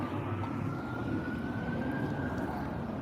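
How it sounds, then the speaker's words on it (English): A police siren on a Los Angeles street, a steady wailing tone rising slowly above a constant rumble of city traffic, moderately distant and continuous. "You heard the sirens?"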